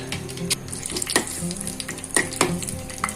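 Ghee melting and sizzling in a pan before cashews go in, a continuous crackling fry with scattered pops and light scraping, close and moderately loud.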